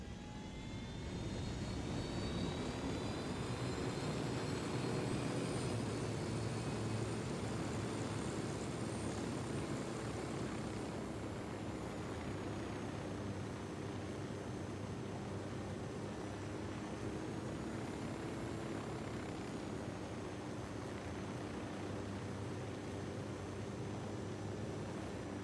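A surveillance drone flies in the video game Ghost Recon Wildlands, a steady whirring engine drone with faint high whine, constant and fairly loud for the full stretch, no voices.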